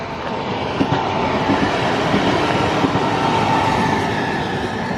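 A train rolls by steadily in Italy, a continuous rumbling roar with faint clickety-clack of wheels on rails, fairly loud and close throughout.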